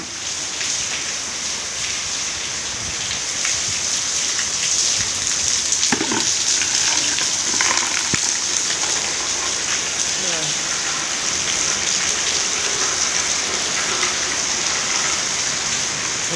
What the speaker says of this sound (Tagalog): Kusog pag-uwan guys.